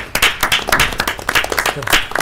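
Audience at a meeting breaking into applause, a dense burst of many hands clapping close by for a couple of seconds.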